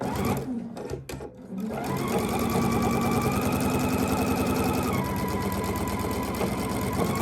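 A sewing machine stitches a quilt seam, joining patchwork pieces chain-pieced into columns. After a few brief stops and starts it settles into a steady, fast, close mechanical whirring and rattling that runs without pause.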